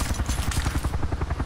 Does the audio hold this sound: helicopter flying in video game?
yes